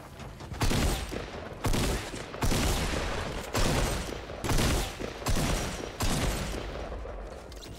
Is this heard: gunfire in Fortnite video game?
yes